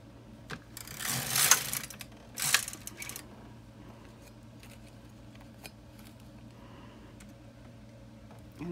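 An LK 150 knitting machine knits a Christmas stocking, with two bursts of the carriage sliding across the needle bed in a harsh metallic rasp, then quieter clicks and ticks, close by.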